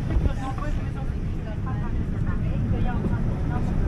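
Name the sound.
airplane in flight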